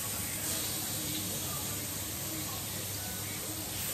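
Chicken pieces drop into a hot pan for chowmein and set off a steady, even sizzle. The hiss stays dense and constant throughout with no pauses.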